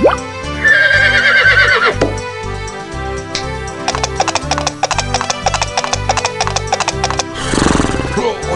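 A horse in the 1996 PC game Ønskefisken gives a loud, clear whinny, followed by a quick rhythmic run of crisp hoofbeats and a final burst of noise, all foregrounded over a background music bed.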